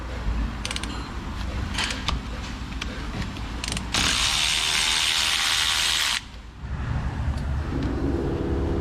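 A ratchet wrench clicks in reverse while working on a car differential cover, with quick bursts of close metallic clicks, followed by a louder, steady mechanical whir and then a lower hum.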